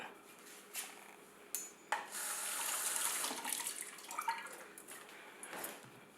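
African sweet potato is rinsed under a running kitchen tap, water gushing steadily for a few seconds with soft rubbing and splashing, close by and quiet, with small clunks before and after.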